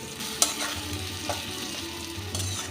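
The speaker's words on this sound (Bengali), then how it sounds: "পেঁয়াজটাকে আমি একটু ভেজে নিচ্ছি" Five onions fry in a mix of ghee and oil for a Kashmiri-style chicken dish, giving a steady close sizzle with occasional stirring scrapes and clinks throughout.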